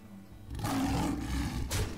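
Tiger roaring as it attacks in the Hearthstone video game, a loud rumbling growl that swells in after a quiet start, then a second burst near the end.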